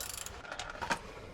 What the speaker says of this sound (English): Of course that doesn't fit. Ratcheting wrench it is.